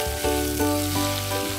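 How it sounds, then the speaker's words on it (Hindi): Broccoli and cauliflower sauté in a pan, giving a close, steady sizzle with a few soft stirring scrapes. A sustained tonal hum runs underneath, shifting pitch in steps, with no voices. "अब आप देख रहे हैं ये वेजिटेबल सॉटे हो रही हैं"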